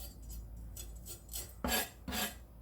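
A knife scrapes seeds from a cut, mildly hot red chili pepper for radish water kimchi, a few faint rasping strokes followed by two louder scraping clicks on a cutting board.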